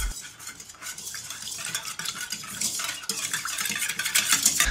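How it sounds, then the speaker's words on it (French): Milk and yeast stirred together in a mixing bowl for homemade brioche: continuous scraping and clinking of a utensil against the bowl, close and fairly loud, with no talking. "On commence par mettre dans la cuve le lait, la levure et on mélange."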